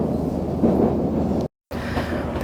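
A Moscow subway train car runs with a loud, steady low rumble and rolling rail noise that drops out abruptly for a moment before the roar resumes.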